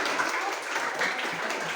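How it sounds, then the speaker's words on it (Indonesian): A sixth-grade classroom breaks into brief, dense applause for a student, a short burst of many hands clapping at moderate distance. "tepuk tangan untuk Isara"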